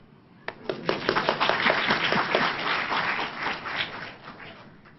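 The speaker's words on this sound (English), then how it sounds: "You all deserve a big round of applause for yourself." An audience applauds at the close of a Buddhist Abhidhamma lecture in Singapore: a sharp first clap, then dense, steady clapping from many hands that fades slowly toward the end.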